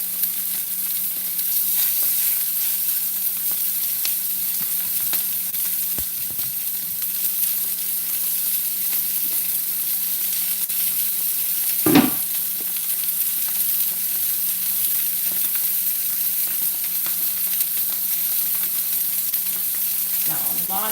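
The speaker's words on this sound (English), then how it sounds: "Fat side down. Hear that? That's what you want to hear when you're searing." Duck breast searing fat side down in a hot pan gives a steady, close sizzle and frying hiss that carries through without a break, with one brief sharp clatter near the middle.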